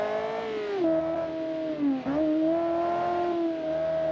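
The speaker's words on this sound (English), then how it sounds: "Love the sound of the car." Carmine Premium car engine in the BeamNG driving game, a steady tonal hum that dips briefly in pitch around a gear change midway, then settles back into an even drone, with no talk over it.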